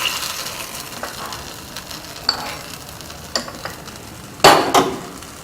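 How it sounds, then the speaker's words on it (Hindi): Hot tempering with curry leaves poured straight into red chilli coconut chutney, giving a short loud sizzling burst near the end after quieter stirring and faint kitchen clinks, with no talking. "तड़के को हम डायरेक्ट इस चटनी में डाल देंगे।"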